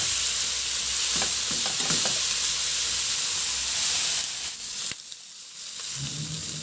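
Pork for beer adobo searing in a hot pan, a loud continuous sizzle and hiss with a few scraping stirs, close up, easing off near the end as the pan quiets.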